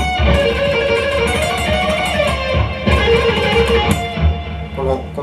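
Electric guitar playing a fast phrase from a guitar solo, dense and continuous notes filling the clip at full volume with no voice.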